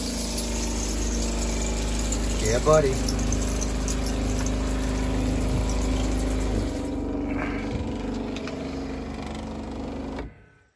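An off-grid shower pump hums steadily with water rushing from the shower head, a constant mechanical drone and flow that cuts off abruptly near the end; someone speaks briefly over it.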